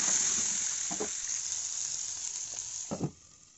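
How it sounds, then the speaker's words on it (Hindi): Potatoes and peas fry in hot oil with a constant bright sizzle close by, interrupted by a couple of soft stirring scrapes, and the sizzle grows quieter toward the end. "मैं आलू और मटर को अच्छे से फ्राई कर ली हूँ"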